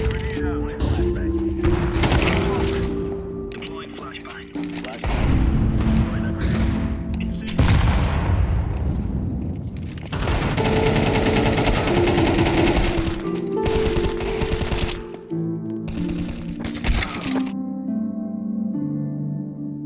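Rapid automatic rifle bursts from a tactical shooter game rattle out in dense sprays with sharp booms between, up close, while someone talks over the action.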